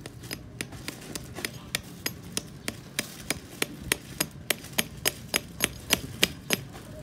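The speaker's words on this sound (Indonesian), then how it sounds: "yang di tempatnya tadi bisa kita palu lagi" A hammer repeatedly strikes nails into a whip, a steady series of sharp metallic taps at a regular beat, growing slightly louder toward the end, with no talk.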